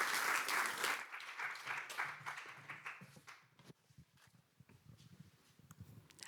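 A summit audience claps in a burst of applause that is loudest at the start and then tapers into scattered, thinning claps.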